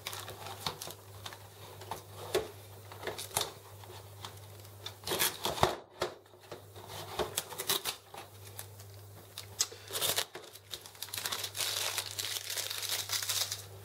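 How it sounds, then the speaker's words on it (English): Plastic packaging being peeled and torn off a new Epson EcoTank L382 printer's ink reservoir area, close-up crinkling and rustling bursts with a few sharper tears, no talking. "Some more packaging here, look, take this off."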